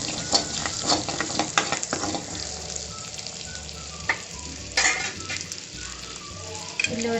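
Butter sizzles steadily in a kadai on the stove, with a continuous crackling hiss and occasional louder pops and stirring scrapes, close and fairly loud throughout with no talking.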